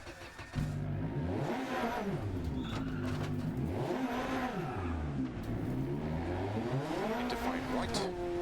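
Rally car engine in Dirt Rally 2.0 revving loudly and steadily, pitch rising and falling with gear changes as the car slides through corners, under a co-driver's pace-note voice.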